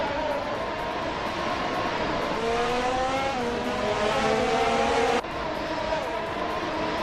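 Race cars in a racing video game jostling for second place: overlapping engine whines rising and shifting, close and loud, ending in an abrupt cut to another steady engine tone.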